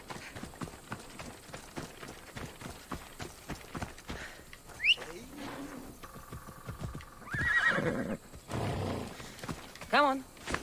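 A horse in a video game set in ancient Greece whinnies several times amid the clatter of hooves, the calls rising sharply above someone talking over the game action.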